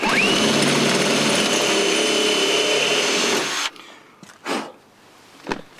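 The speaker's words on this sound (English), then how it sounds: "Now we need to drill and rivet the actual flange onto the bodywork itself." A power drill bores holes in the bodywork of a Land Rover Defender 110 hard top while jerry can side lockers are fitted. It spins up into a loud, steady whine for several seconds, then stops, followed by a few brief knocks.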